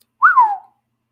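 A person whistles a single short note that rises then glides down, clear and close, with silence before and after.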